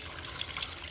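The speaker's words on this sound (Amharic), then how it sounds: "ከዛም አንድ ብርጭቆ ንጹህ ውሃ" A glass of clean water is poured into a blender over carrot, lemon and mint leaves for a juice. The pour is a short, steady, close splash of running water with no talking.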